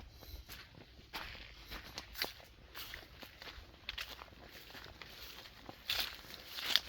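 Footsteps crunch through dry growth in a cornfield, a steady walking rhythm of rustles and snaps with a couple of sharper crackles near the end.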